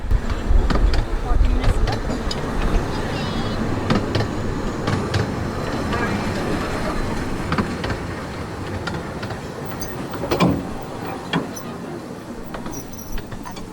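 Three locomotives working together on a narrow-gauge railway at a gala, a loud rumbling, clanking train passing close by with rhythmic rail knocks and a voice talking over it.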